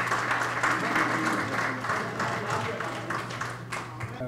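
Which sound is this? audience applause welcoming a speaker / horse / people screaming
audience applause welcoming a speaker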